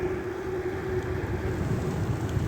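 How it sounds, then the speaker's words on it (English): Gust of wind blowing across a microphone in a low-budget game, a steady broadband roar with a rumbling low end that stays loud and unbroken throughout. "You gotta watch out for those gusts of wind."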